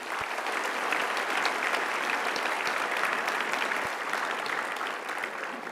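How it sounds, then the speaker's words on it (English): Steady, sustained applause from an audience at a Space Center Houston astronaut debrief event, even and continuous throughout at moderate volume. "So big round of applause for Space Center Houston."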